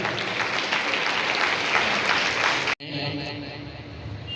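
Audience applause at a government and private school student honoring ceremony in Dhamtari, a dense sustained wash of clapping from many hands, briefly cut off near the end, then resuming slightly thinner.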